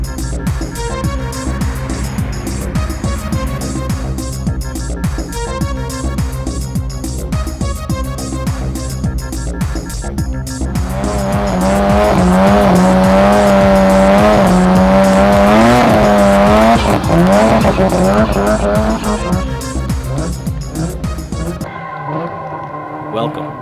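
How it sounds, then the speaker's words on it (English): Cars drag racing on a Yokohama street at night roar loudly at full throttle, their engines revving and rising in pitch while tires squeal and skid, before the noise cuts off abruptly near the end. "We're gonna do some street drags."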